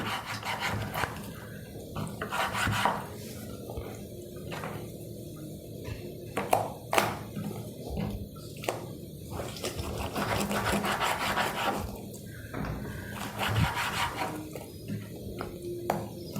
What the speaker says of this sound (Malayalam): ഇപ്പം നമുക്ക് ആദ്യം ഇതിനൊന്ന് കട്ട് ചെയ്യാം